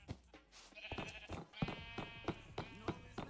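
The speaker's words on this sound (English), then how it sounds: "there's like 50 sheep under here" Sheep bleat repeatedly in the Minecraft video game, a crowd of blocky farm animals giving short, nasal, wavering cries one after another at close range, with a few overlapping calls.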